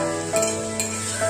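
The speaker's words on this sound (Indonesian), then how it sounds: "Kita oseng lagi." Ground tomato sambal is stir-fried in a pan, a steady sizzle with a few light scrapes and clinks of a utensil stirring, close and alone.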